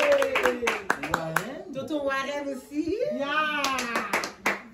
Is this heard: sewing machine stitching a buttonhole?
no